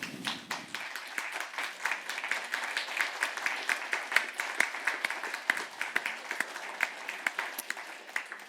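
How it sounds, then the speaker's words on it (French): Audience applause at a conference, steady dense clapping from a seated crowd lasting throughout, fairly faint and distant, with a brief low rumble at the very start. "C'est vous tous, c'est nous tous qui nous applaudissons."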